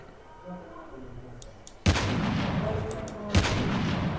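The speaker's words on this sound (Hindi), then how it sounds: "उसको मैं स्नाइपर से किल करने की कोशिश करूँगा" Two sharp, loud sniper rifle shots in the mobile shooter game Call of Duty Mobile, about a second and a half apart, each with a ringing tail, following a quieter stretch of game ambience.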